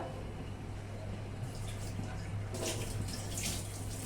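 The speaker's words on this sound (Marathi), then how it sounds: "फक्त साखर भिजेल एवढंच पाणी घालायचंय" Quiet trickle of water being poured onto sugar, a soft splashing pour that grows a little brighter partway through.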